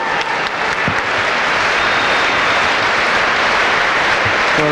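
A boxing arena crowd at a 1993 bout keeps up steady, loud applause and cheering, dense and continuous from start to finish with no voice on top.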